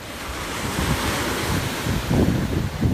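Ocean waves break on a beach in a steady, full roar, with gusty wind buffeting the microphone and a few louder surges of surf toward the end.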